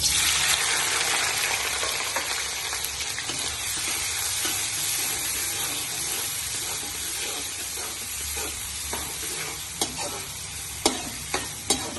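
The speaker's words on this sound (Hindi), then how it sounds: "ये हमने बर्तन लिया, बर्तन में हमने ऑयल डाल लिया। अब इसमें डालते हैं प्याज।" Onions frying in oil in a cooking pot for matar qeema give a steady, close sizzle throughout, with stirring scrapes and a few sharp utensil taps near the end; no voices.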